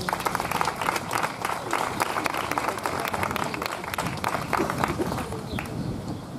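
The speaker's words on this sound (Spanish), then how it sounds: "Un aplauso también para ella" An audience applauds a woman named Susana, dense continuous clapping from a crowd holding steady from start to finish.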